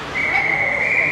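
A referee's whistle blows once in a single sustained, shrill note at an ice hockey game to signal a penalty, clear over the arena's background crowd noise.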